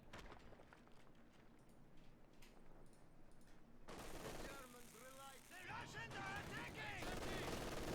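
MG42 machine gun firing in a World War II strategy game, rapid bursts of gunfire amid other battle noise, growing louder partway through, with a commentator talking over it.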